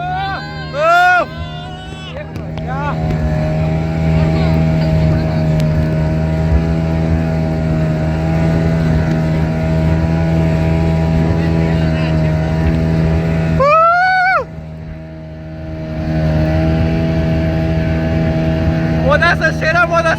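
Speedboat racing across the sea at Digha, its engine droning loudly and steadily with strong low harmonics for the whole stretch, dipping briefly midway, while voices shout and cheer excitedly over it.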